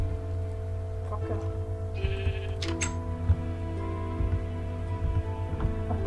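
A sheep in the Minecraft video game bleats several times, its wavering cries rising over a steady game-music drone with a bright chime in the middle.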